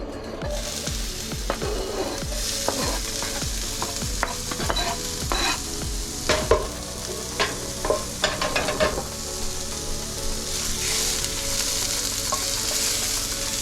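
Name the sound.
onions and jalapenos frying in a hot cast iron pan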